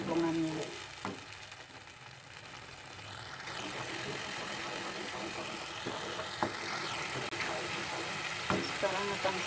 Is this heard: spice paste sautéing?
yes